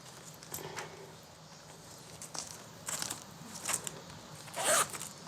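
A jacket's clothing zipper is worked shut in short bursts, a few brief rasping tugs that grow slightly louder toward the end, heard close-up in a quiet room.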